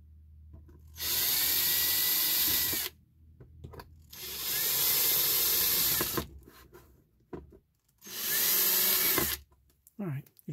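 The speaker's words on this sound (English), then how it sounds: "I had to pull out a bigger drill." A large power drill whirs loudly in three long bursts of about two seconds each, drilling holes while replacing a Workhorse instrument cluster lens cover, with quiet pauses and small clatters between them.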